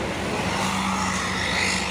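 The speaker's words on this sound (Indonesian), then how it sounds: "di belakang juga ada truk trailer Hino 500 beriringan melewati tanjakan Bukit Kodok." A Hino 500 trailer truck grinds up the steep Bukit Kodok hill climb in convoy with other trucks, a steady, heavy low engine drone that stays constant and fairly close throughout.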